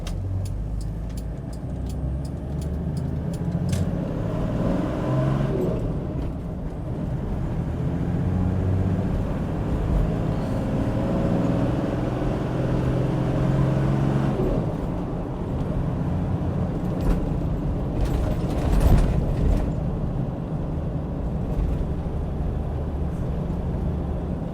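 Engine of a 1997 Toyota Land Cruiser Troopy droning steadily while driving, its pitch rising and falling as the gearbox works up through five gears, with a brief louder surge late on and no talk.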